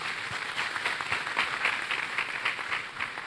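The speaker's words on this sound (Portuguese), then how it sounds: "Vamos aplaudir ao Senhor Jesus." A church congregation claps together during a service, an even, continuous spatter of applause at moderate volume with slight swells and no speech over it.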